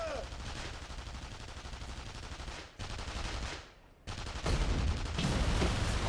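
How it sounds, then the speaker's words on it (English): Rapid bursts of gunfire from the video game The Saboteur, set in occupied France, crackle loudly and almost continuously, with a short lull before the shooting resumes even heavier; a voice talks over it at times. "Gunfire!"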